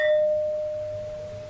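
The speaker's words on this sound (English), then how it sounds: "this thing really rings like a bell, and it reverberates for quite a long time" A struck object rings like a bell, producing a clear sustained tone that decays slowly and keeps reverberating, with faint higher overtones fading early and no voices.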